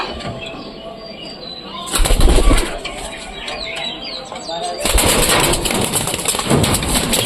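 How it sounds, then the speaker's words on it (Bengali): Pigeons kept at home flap their wings in two loud, close bursts, separated by quieter stretches of rustling and soft bird sounds nearby. "কত সুন্দর কবুতর।"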